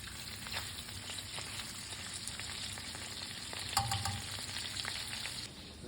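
Shrimp frying in oil in an apartment kitchen wok for Hokkien mee, a continuous soft sizzle and crackle with light stirring and a brief louder spatter midway.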